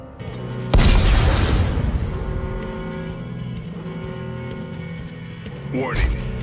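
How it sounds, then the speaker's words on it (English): Sudden loud boom of explosives detonating in Dead Space 3, followed by a long rumbling decay and a second smaller burst near the end, with a synthetic voice heard over it. "Computer, arm explosives. And detonate."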